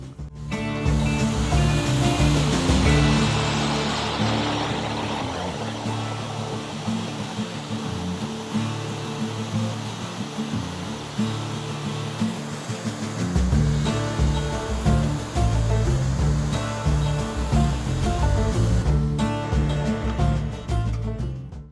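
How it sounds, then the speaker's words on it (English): A water hose runs through a foam nozzle, spraying and rinsing soap out in a loud, steady rushing hiss. The spray is close and continuous for the full length, with slight shifts in pressure and no speech. "So I'm going to start rinsing, you're going to see a little bit of soap"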